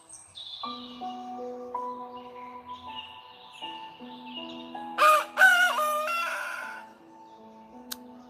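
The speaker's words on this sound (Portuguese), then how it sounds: "Terceira vez que o galo cantou." A rooster crows once in the middle, a loud, harmonic call rising over soft, steady sustained tones that resemble a keyboard, with no voices.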